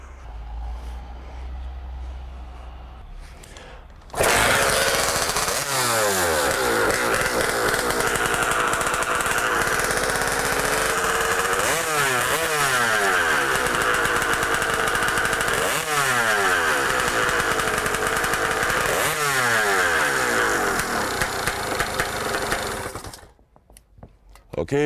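A hot saw engine fires up and warms, holding a loud, raspy high-revving drone with repeated rising and falling throttle sweeps for nearly twenty seconds before cutting off abruptly.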